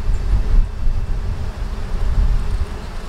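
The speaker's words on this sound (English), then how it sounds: "It's super windy today." Strong, gusty wind buffets the microphone outdoors near a honeybee swarm, giving a loud, low rumbling roar that surges and eases across the whole moment with no talk.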